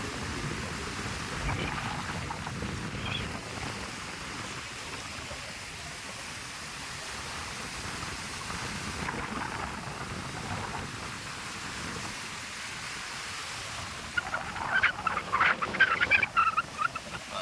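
Rough sea water and waves wash steadily against a boat during a ride off El Nido, Palawan, a continuous broadband rush that turns choppier and louder with splashing bursts near the end, with no talk.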